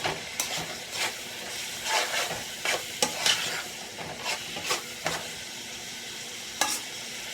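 Onions frying in a pot for Brunswick stew, a low continuous sizzle with repeated close scraping and stirring strokes at an irregular pace, no one speaking.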